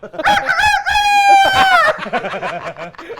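A person imitates a rooster crowing, a drawn-out rising and falling cock-a-doodle-doo, followed by short clucking sounds, loud and close.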